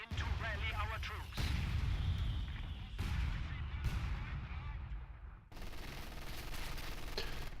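Machine gun fire in a WWII video game battle, loud rapid bursts and heavy booming shots in dense clusters, cut off abruptly between segments, with some overlapping voices.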